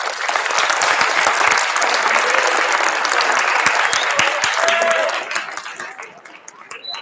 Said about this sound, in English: if we could please give them a round of applause